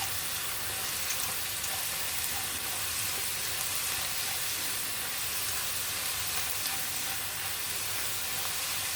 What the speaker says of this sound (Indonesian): tumis terlebih dahulu irisan bawang merah dan irisan bawang putih. Ini ditumis sampai layu sampai harum.